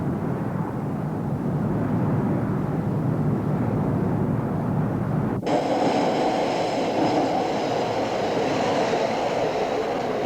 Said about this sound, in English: The newest, fanciest, shiniest train in the whole country is here in the Oakland-San Francisco Bay Area.